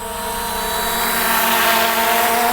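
A CSJ X7 Pro budget camera drone flies with a steady, high-pitched whirring buzz from its propellers. The tone holds evenly and close, swelling slightly louder midway, with no voices.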